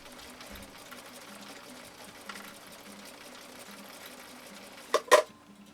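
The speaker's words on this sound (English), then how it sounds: "That needle is going back and forth and back and forth and back and forth" A Husqvarna Viking 6010 sewing machine runs a dense, heavy stitch, its needle working back and forth in a steady low mechanical whir at modest level, ending with a couple of sharp clicks near the close.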